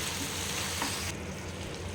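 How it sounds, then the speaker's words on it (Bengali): Fried prawns are stirred into a sizzling pan for a butter garlic prawn dish, with a steady close hiss of frying and light scraping of the stirring utensil, getting a little quieter near the end. "এর ভেতরে মিশিয়ে দিলাম এই প্রন ভাজাগুলো ব্যাস আর একটু নাড়াচাড়া করে"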